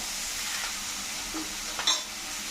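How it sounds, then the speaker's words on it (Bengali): Vegetables and spinach (palong shak) being tipped into a hot pan for a Bengali palong bori jhol, giving a steady hiss and sizzle with a short stirring clatter near the end, close up and with no one talking. "এখন দিয়ে দেবো সবজিগুলো শাকটাও দিয়ে দেবো"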